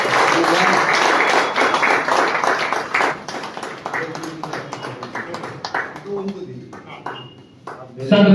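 An audience at an Urdu library book launch in a hall applauds, with dense clapping that is strongest at first and then thins out, mixed with voices.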